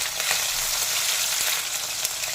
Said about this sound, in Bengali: দিয়ে দিলাম কিছুটা গোটা জিরে, একটু নেড়ে নেব